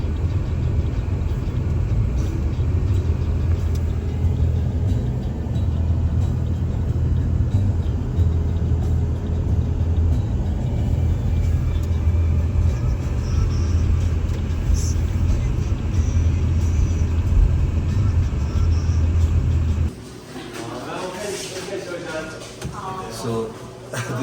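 A car drives into Snowbowl in Arizona, with a steady, loud road rumble and engine drone for most of the time, then a sudden drop to a quieter interior with some voice-like sound.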